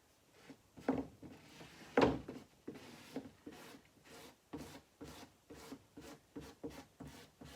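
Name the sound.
squeegee rubbing chalk paste through a silkscreen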